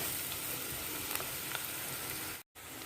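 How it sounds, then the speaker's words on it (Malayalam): Onions sautéing in a pan give a continuous soft frying hiss with a few faint stirring ticks, briefly cutting out near the end. "ഉള്ളി നന്നായിട്ട് തന്നെ വഴറ്റിയെടുക്കാം."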